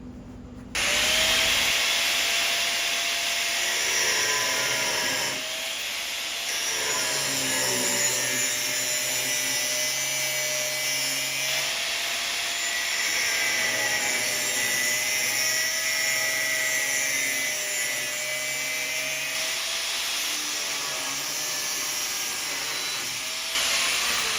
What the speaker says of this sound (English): this is about to be the most precise angle grinder cut you've ever seen